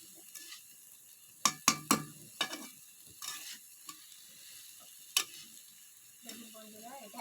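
Curry being stir-fried in a pan, a soft low sizzle broken by sharp clinks and scrapes of a spoon against the pan, with a brief voice near the end.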